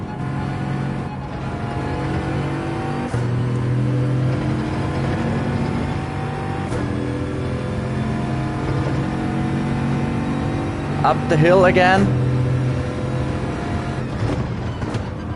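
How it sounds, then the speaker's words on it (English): A Bugatti Veyron engine in Gran Turismo 7 during a Nations Cup race at the Red Bull Ring drones continuously, its pitch rising and easing as the car climbs, with brief tire squeals near the end and a short spoken line. "If you're using the Veyron, don't rev it out."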